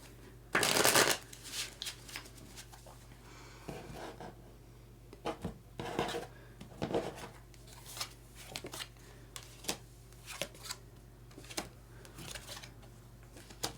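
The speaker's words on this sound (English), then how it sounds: "So I'm going to pull 3 more cards just as teachers or as anchor cards" Tarot cards are shuffled close by, starting with a loud riffling burst and then continuing as scattered soft slides, taps and flicks of the deck in an otherwise quiet room.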